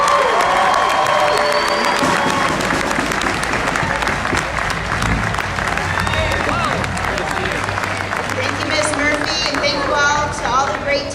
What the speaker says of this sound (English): Students, can we give her a round of applause?